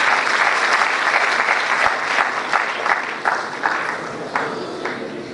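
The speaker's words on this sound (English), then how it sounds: "So big round of applause for them as well" A crowd applauding steadily, clapping densely at first and then thinning out toward the end.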